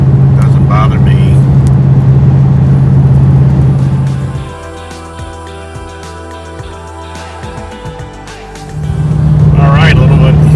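Ford Mustang Bullitt cruising on an open highway at about 80 mph and 2,300 RPM, a steady loud engine and road drone with a low hum that dips midway then returns, under a talking voice.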